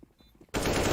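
Sudden loud burst of automatic gunfire in Counter-Strike: Global Offensive, breaking in after a quiet half-second and continuing as a dense, continuous rattle to the end.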